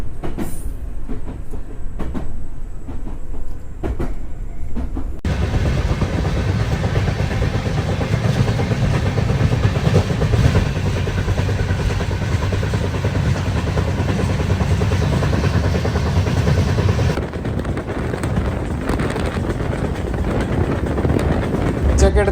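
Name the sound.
train running on the Bengaluru–Delhi route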